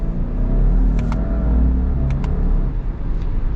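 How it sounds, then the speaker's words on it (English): Turbocharged Subaru Outback Wilderness engine accelerating with paddle shifts, a steady low rumble with brief rises in pitch and faint clicks, heard from inside the cabin. "this turbocharged engine has some grunt"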